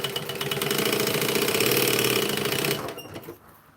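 A sewing machine stitching fabric runs at a fast, steady mechanical whir for nearly three seconds, loud and close, then stops abruptly, leaving a few faint clicks and near silence.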